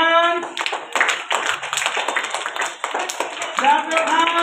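Crowd applause for prize winners: a steady rain of hand claps, fairly close, mixed with people talking at the start and end.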